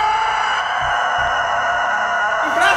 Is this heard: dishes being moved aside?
no